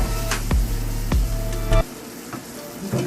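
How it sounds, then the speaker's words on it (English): Masala sizzles loudly in a hot pan while cooking for a raw banana (vazhakkai) fry, with steady frying hiss broken by three sharp stirring bursts before it settles into a quieter sizzle. "let the masala cook for about 2 to 3 minutes"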